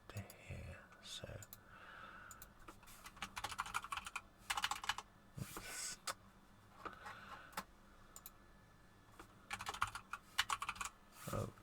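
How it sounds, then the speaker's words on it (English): Fingers tap out irregular bursts on a computer keyboard, quiet and close, with soft murmured speech underneath. "oh, come on, I can't type today."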